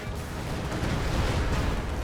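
An explosion in Company of Heroes 2, heard as a dense, sustained rumbling blast full of crackling debris that stays loud across the whole moment, with no voices over it.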